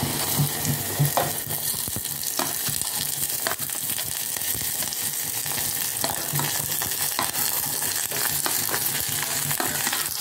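Onions and chopped vegetables fry steadily in hot oil, a dense continuous sizzle with scattered crackles and occasional stirring scrapes, close and even throughout.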